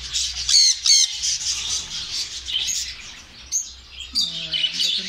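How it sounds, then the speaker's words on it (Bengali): Many male canaries chirp and squawk together in a crowded Saudi bird shop, a steady busy chorus of bright, overlapping calls with no pauses, heard close and loud. "দেখেন সব ক্যানারি মেল পাখি।"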